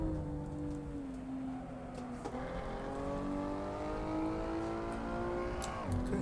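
An Assetto Corsa race car engine drones under throttle, its pitch climbing steadily with quick dips at gear changes, heard from inside at moderate volume.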